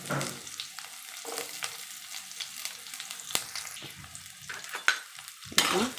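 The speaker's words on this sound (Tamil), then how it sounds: "இதோட நம்ம வெங்காயத்தை ஆட் பண்ணிக்கிறோம்" Chopped onions tossed into a hot pan for a Tamil potato stir-fry, sizzling and frying steadily with repeated stirring clinks and scrapes of a spoon against the pan throughout.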